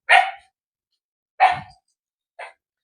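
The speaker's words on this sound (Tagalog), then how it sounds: "Nakakulong naman yung aso eh." Three separate barks from a caged dog at a residential relocation site, each short and sharp with a clear pause between them, loud and close with no voices.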